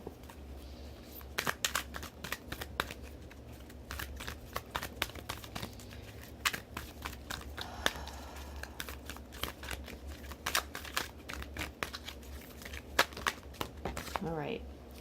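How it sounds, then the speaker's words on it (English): A deck of oracle cards is shuffled by hand in a quiet room, giving a series of soft, irregular riffling and flicking bursts with small pauses between them. "So let me shuffle them really quickly for everybody."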